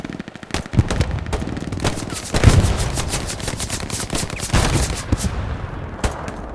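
Heavy gunfire in the World War II shooter Hell Let Loose during a competitive match at Foy: rapid machine-gun bursts and overlapping shots roll on almost continuously, loud and close, with distant firing underneath.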